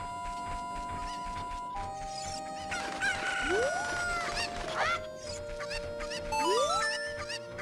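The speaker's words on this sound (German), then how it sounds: "Meine Hühner sind alle davon geflogen." Chickens from The Legend of Zelda Ocarina of Time, a loud run of game cluck and crowing effects with rising squawks over a backing music loop, the sounds repeating in short bursts.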